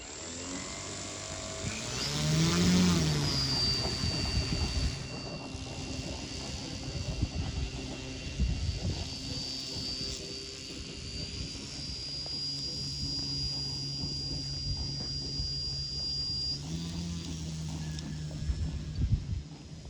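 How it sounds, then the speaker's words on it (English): A Hangar 9 Cessna 182 RC model airplane with a 95-inch wingspan runs its engine while taxiing and then flying. The buzzing drone swells loud and close, then wavers in pitch and distance over wind noise. "I'm gonna taxi it out to the end of the runway, do a range check, make sure everything looks good, and then we're gonna have ourselves a flight."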